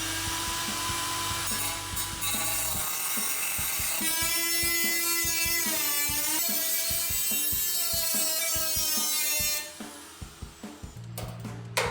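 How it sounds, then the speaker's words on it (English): A cutoff wheel slices into the metal fender of a 2010-2015 Chevrolet Camaro with a sustained, loud, wavering high whine for several seconds, then cuts out, leaving scattered clicks and knocks. "we are gonna cut with the cutoff wheel along the inside of that tape right there"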